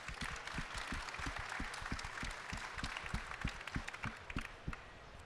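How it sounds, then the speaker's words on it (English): Applause from a panel discussion audience, a steady wash of clapping from a modest crowd heard at a distance, with sharp low thumps punctuating it throughout. "This is ready for another round of applause"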